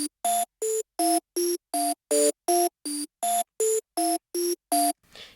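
A plucky, repetitive synth melody made with Serum in FL Studio plays alone, twelve evenly spaced bright notes in a steady pattern with small pitch changes, ending in a brief fading tail.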